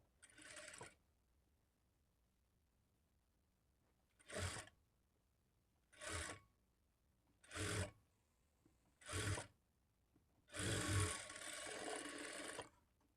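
A sewing machine stitching the front part of a blouse whirs in six short, close bursts separated by quiet pauses, the last one running longer.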